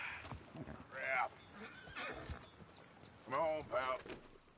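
A horse whinnies in Red Dead Redemption II, a loud, rising-and-falling neigh near the end, with hoof clip-clop and a voice earlier on.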